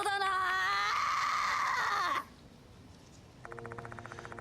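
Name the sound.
female student growling before attacking, from the video game Spirit Hunter: Death Mark II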